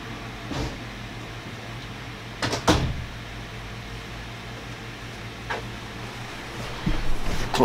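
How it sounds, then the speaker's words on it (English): A door thumps shut at close range against a low steady hum, with several softer knocks and clicks scattered before and after it. "close the door in case any intruders come."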